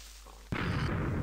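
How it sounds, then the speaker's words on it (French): A creeper explodes in the Minecraft video game. After a quiet lead-in comes a sudden, loud, close blast that turns into a sustained roaring rumble and then begins to thin out. "la nouvelle explosion des creepers, c'est génial"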